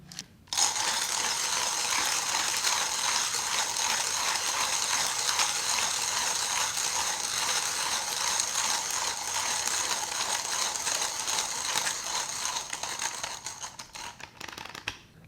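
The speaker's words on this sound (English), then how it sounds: "Let me just show you how fast this grinder can go through 12 grams of coffee." 1Zpresso hand coffee grinder crunches through 12 grams of beans with a steady, rapid ratcheting grind, loud and close, running continuously for about fourteen seconds before stopping.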